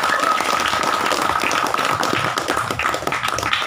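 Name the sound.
applause at a camping gathering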